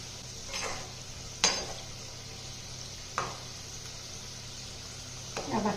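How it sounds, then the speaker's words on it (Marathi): Flaxseed bhakarwadi fry in hot oil over a medium flame, giving a constant soft hiss broken by a few sharp scraping stirs and a bubbling flare near the end. "भाकरवड्या ह्या मिडियम गॅसवरच तळून घ्यायच्या आहेत"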